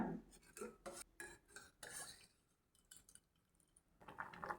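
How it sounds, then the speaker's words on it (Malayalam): A spoon stirs parippu dal curry with added water in a pot, scraping and clinking against the metal in quick rhythmic bursts with short pauses. "ഇനി ഇതിലേക്ക് പാകത്തിനുള്ള വെള്ളം കൂടി ചേർത്ത് ഇളക്കി തിളപ്പിച്ചെടുക്കണം"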